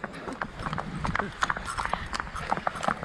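Horse hooves clopping along the mountain trail ride to Baisaran meadow near Pahalgam, an uneven run of sharp knocks close by, mixed with rattling tack and some background voices.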